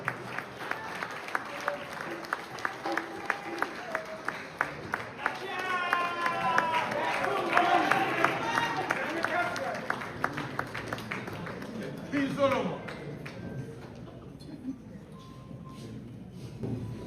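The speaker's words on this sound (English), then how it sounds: "Let us give you a big round of applause." Audience applause greets the Asantehene, King Otumfuo Osei II, at a breakfast event in Canada, swelling into a broad crowd clap mid-way before easing, with a speaking voice and crowd noise mixed in.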